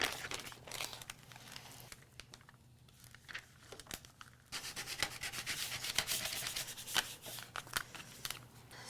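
A plastic scraper is pulled firmly across vinyl sheet for butterfly wall art, giving close, steady rubbing and crinkling strokes that grow louder and denser in the second half, with no talking.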